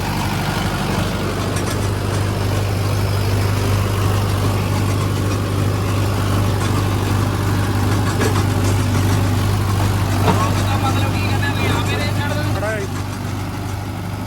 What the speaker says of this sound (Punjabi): ਹੁਣ ਤੁਹਾਨੂੰ ਦੱਸਦੇ ਆ ਵੀ ਟਰੈਕਟਰ ਚੱਕਰ ਕਿੰਨੇ ਤੋੜਦਾ